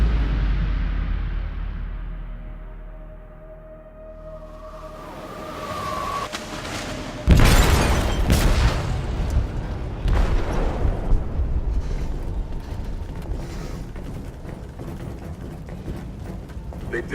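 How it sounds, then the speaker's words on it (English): An explosive detonates in a ship's hold in Detroit: Become Human. A sudden deep, loud boom bursts out of a low rumbling hum, then rolling debris noise and continuing turbulent roar follow. "They detonated an explosive in the hold."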